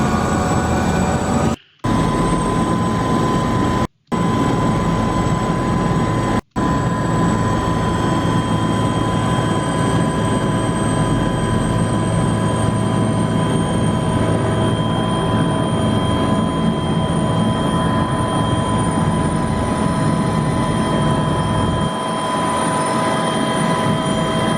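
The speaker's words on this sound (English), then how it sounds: "we use helicopters to get to the island" Helicopter flying toward Marion Island, a loud, steady rotor and engine drone holding throughout with constant tonal hum, broken by a few brief dropouts near the start.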